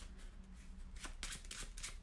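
A deck of playing cards is shuffled by hand at close range, with quiet riffling followed by a few crisp, bright flutters, all fairly soft.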